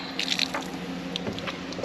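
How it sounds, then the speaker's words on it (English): Steady rush of water running from a spigot into a tank, with faint splashing and a few brief higher clinks over the continuous flow. "So we're gonna fill up our water tank."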